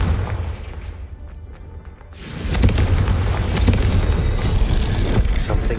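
A Confringo fire spell in Hogwarts Legacy sets off a loud, broad blast at about two seconds, and a sustained, roaring rumble continues after it.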